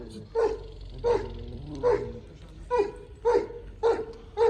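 A Turkish Anatolian Lion (Anatolian shepherd) dog barks repeatedly in a steady rhythm, about six sharp barks spaced under a second apart, fairly close and loud.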